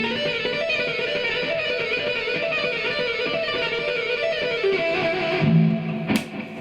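A fast, repetitive electric guitar rock lick using hybrid pentatonic scales plays steadily at moderate volume, ending with a few lower notes and a sharp scrape.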